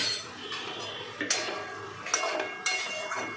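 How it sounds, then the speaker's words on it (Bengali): A spoon scrapes and knocks vigorously around a pan of frying chilli chicken, with sizzling hiss underneath and a few sharp metallic clinks standing out. "জোরে করে একটুখানি নাড়ছি, এটা কোনো আস্তে করার দরকার নেই"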